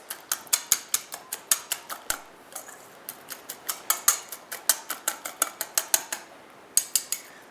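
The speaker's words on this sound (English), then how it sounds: "You're going to stir it up." A utensil clacks rhythmically against a bowl while stirring a pepper-seasoned mixture, sharp close taps in quick bursts with a few brief pauses.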